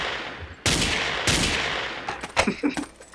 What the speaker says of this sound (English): What are you doing shooting at me?